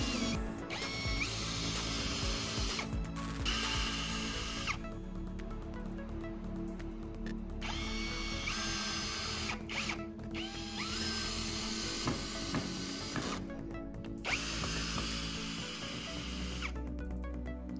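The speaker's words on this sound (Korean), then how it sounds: "먼저 드라이버 기능을 테스트해봤습니다." Power drill in screwdriver mode driving screws: repeated bursts of whirring motor with a ratcheting clutch chatter, several start-stop runs close to the microphone, no talking.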